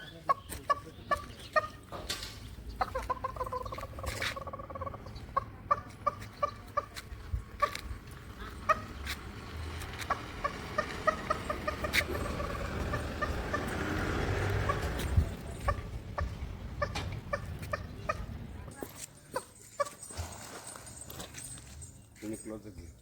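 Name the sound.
turkey gobbling in response to an imitated turkey call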